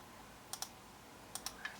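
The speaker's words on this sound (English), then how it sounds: "use your arrows on your keyboard, and kind of just scooch it over a little bit" Arrow keys on a computer keyboard are tapped lightly about five times in two quick pairs and a final press, quiet and close against a hushed room.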